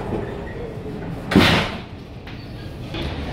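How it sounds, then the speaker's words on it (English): A brief whoosh and thud of a powered sliding toilet door on a train to Ipoh, heard once over a low rumbling background. "I know this is the disabled automatic door."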